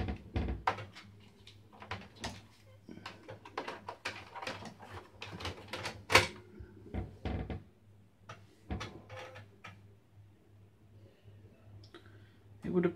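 Clicks and clunks sound from an Amiga computer's floppy disk drive as a disk goes in, a rapid series of sharp mechanical taps, close and fairly quiet over a low steady hum, with someone talking briefly.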